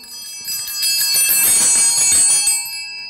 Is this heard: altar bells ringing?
yes